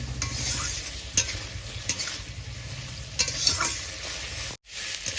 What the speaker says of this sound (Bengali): আস্তে আস্তে জাল দিয়ে আলু আর কলাটা কষিয়ে নেব মশলার সাথে